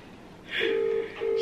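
Telephone dialing tones while placing a phone call: two sustained electronic tones, the first longer, separated by a short gap, clear and fairly close over a low room background.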